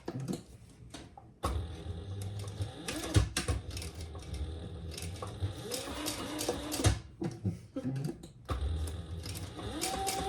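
A sewing machine basting fabric in place for a retro-style sling bag, running in fast mechanical bursts with brief pauses and stops, close up and without any talking.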